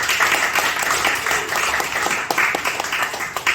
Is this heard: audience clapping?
yes